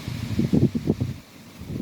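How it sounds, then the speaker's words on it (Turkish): Gusty wind buffets the microphone in low, rumbling bursts, then settles into a steadier, quieter rush of air. "Var ya rüzgar var arkadaşlar."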